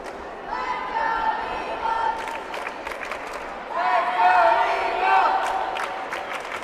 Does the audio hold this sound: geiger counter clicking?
no